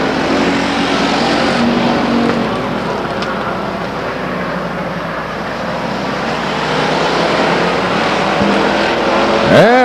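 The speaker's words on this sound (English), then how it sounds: "And a violent spin on the front stretch, but nice catch after all in the 10 car." Race cars roar loudly and continuously on the front stretch of Stockton 99 Speedway, a dirt/asphalt short-track oval race, during a violent spin by the 10 car, with engine noise steady throughout and a sweeping pass near the end.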